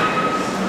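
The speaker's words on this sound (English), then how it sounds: "First subway ride ever, I believe." Steady, loud rumble of a subway train in motion, with a constant hum and rail noise running unbroken throughout.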